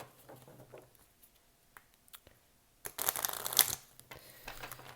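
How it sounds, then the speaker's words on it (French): Oracle cards shuffled by hand, a short crisp burst of riffling and flapping near the end after quiet handling rustles, close and alone. "On va regarder ensuite avec l'oracle des miroirs pour vos présages. Je vais bien le mélanger."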